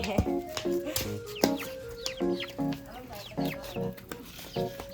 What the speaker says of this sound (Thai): ไก่มาแล้วไก่มาแล้ว